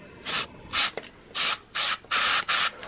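Six short bursts of contact cleaner spray hiss into the volume control of a Detrola radio in an uneven rhythm, close up, with brief quiet gaps between them and no talking.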